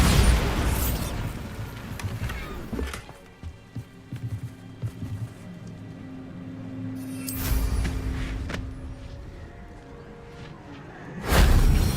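A Bombarda spell in Hogwarts Legacy goes off in loud booming blasts, one at the start, a second near the middle and a third at the end, with quieter rumbling and rustle between them.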